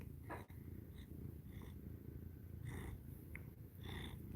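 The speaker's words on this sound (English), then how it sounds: "She's always purring." A pet cat purrs softly and steadily up close in a quiet room, the low rhythmic rumble repeating with each breath, faint and undisturbed by talk.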